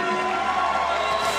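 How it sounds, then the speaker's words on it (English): A Hungarian team cheers for its winning judoka at the World Judo Championships in Hungary, a steady, dense crowd roar that fills the arena without letting up. "The Hungarian team cheering for him"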